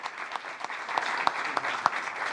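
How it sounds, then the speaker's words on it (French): Applause from a studio audience on a French talk show, a moderate crowd clapping steadily with a few sharper individual claps standing out, fairly close. "On va t'applaudir."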